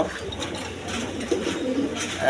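A pair of pigeons kept for sale coos softly and steadily close by, low warbling notes running through the whole short stretch with no talk over them.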